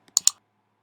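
A computer mouse clicked twice in quick succession, two sharp, close, dry clicks with silence after.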